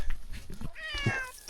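A cat meows inside a hay fort, a small hole hollowed into a haystack, with a couple of close, drawn-out meows over faint rustling.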